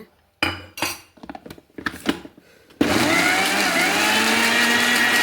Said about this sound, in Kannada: ಇದನ್ನೀಗ ಅರ್ಕೊಂಬ ಮಿಕ್ಸಿಯಲ್ಲಿ